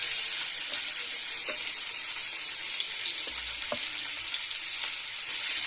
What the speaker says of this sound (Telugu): సో ఇప్పుడైతే నేను టమాటా వేసుకుంటా.